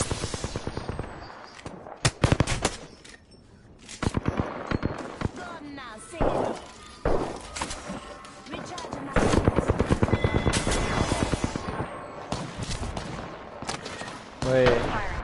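Heavy gunfire in the battle-royale game Apex Legends on PS4, with rapid bursts and single shots overlapping and explosive cracks, loud throughout while players talk over it.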